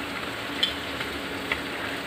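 Saba bananas fry in a pan of hot oil while pork and chicken adobo is cooked, giving a continuous close sizzle with a few soft pops and no talk.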